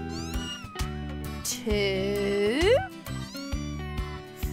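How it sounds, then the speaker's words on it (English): Cartoon newborn kittens meow in high, wavering cries over bright background music, with one long rising mew in the middle and a voice briefly counting. "Three beautiful kittens."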